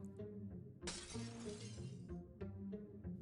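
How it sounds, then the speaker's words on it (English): Glass shatters with a sharp, bright crash that sprays into a rush of tinkling fragments lasting about a second, over a steady background hum. "I dropped the bottle."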